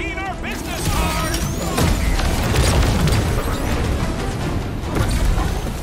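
Fireworks burst in a loud, continuous barrage of booms and crackles during Marvel's Guardians of the Galaxy gameplay, layered with game music and effects, while voices shout over the din.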